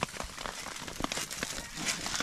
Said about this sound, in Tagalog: Umuulan. Kaya nagawin kami ng tarp.